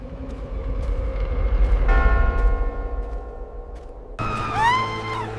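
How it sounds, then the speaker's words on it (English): A heavy, rusted bell in a tall old town tower strikes loud and close, then strikes again, each toll ringing out with a long metallic hum over a low rumble. "heavy, rusted bell rang out from the tallest, oldest tower in the center of town"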